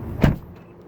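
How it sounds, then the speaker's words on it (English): 2017 Mazda CX-5 doors unlocking automatically with the key left inside, a single short mechanical actuator whir-thunk, close and brief, in a quiet cabin. "You hear that noise? That's letting me know my keys are still in the vehicle."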